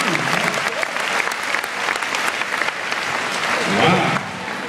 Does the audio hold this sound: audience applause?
yes